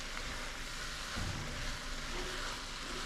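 Vegetables and seasonings for vegetarian chili cook in a pot with a constant soft sizzle, broken by a brief stirring scrape near the middle.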